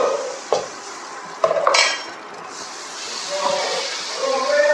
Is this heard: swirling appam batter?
yes